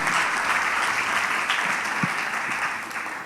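A church congregation claps together in a sustained, dense round of applause, steady and fairly loud throughout, with no voice on top.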